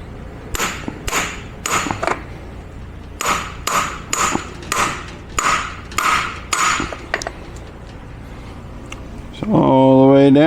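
Converter seal being tapped into the front of an 8L90 transmission during a rebuild: a run of sharp metallic taps in uneven groups, close and loud, followed by a brief ringing clatter at the end.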